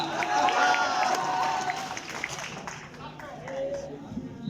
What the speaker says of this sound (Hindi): पुरजोर तालियों से इस्तकबाल कीजिए जनाब माइकल खटखट बाराबंकी का